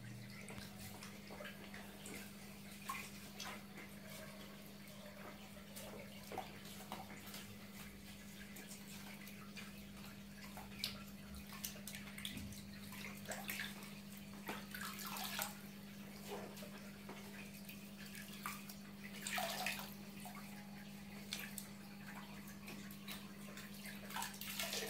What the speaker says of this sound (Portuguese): acabamos aqui de limpar as 4 esponjas